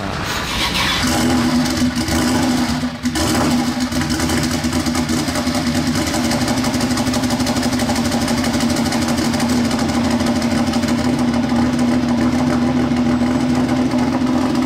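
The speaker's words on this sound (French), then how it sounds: "Jaguar XJ 220. Bon, en plus j'arrive juste quand il va la démarrer, j'ai l'impression." A Jaguar XJ220 supercar fires up at the Rétromobile 2023 classic car show and settles into a loud, steady, rough engine drone with a strong low hum, close by and sustained throughout.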